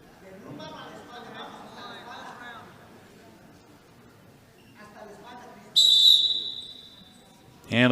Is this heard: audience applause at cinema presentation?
no